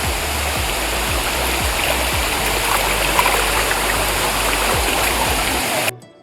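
Water rushes down the Bendaobaglai waterfall and stream near Samparidisha village in Dima Hasao, Assam, a loud steady roar close by with a few splashes, before the sound cuts out at the end.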